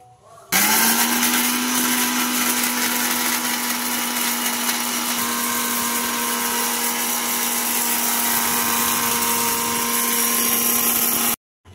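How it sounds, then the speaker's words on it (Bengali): An electric grinder pulverises sun-dried chillies into powder, a loud, steady motor whine running unbroken for about eleven seconds before cutting off abruptly, with no talking. "আজকে ওই লঙ্কাগুলো গুঁড়ো হচ্ছে"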